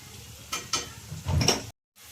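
Gobi 65 cauliflower pieces crisping in hot oil, a soft bubbling sizzle with a few louder bursts as the pieces are stirred, then a brief silence before the frying resumes.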